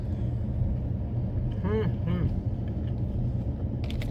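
A car's air conditioning hums as a steady low rumble inside the cabin, continuous and fairly loud, with a brief voice-like sound partway through.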